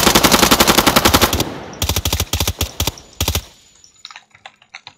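Automatic gunfire from a Call of Duty video game, rapid bursts of evenly spaced shots, loud and close, stopping and restarting in short volleys before trailing off into faint clicks.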